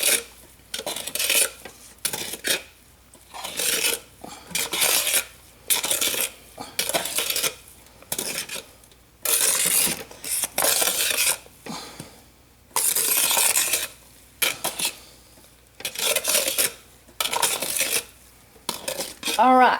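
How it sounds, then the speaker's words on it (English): A hot soap mixture for an exfoliating mechanic's soap is stirred in a pot, with rhythmic bursts of scraping and clattering utensil against metal, alternating with short pauses, close and loud. "so let's go ahead and stir it some"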